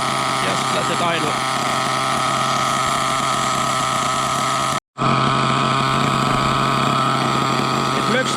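HPI Trophy Truggy 4.6 nitro RC truck engine idling, a steady buzzing drone that cuts out for an instant near the middle and then resumes at the same even pitch.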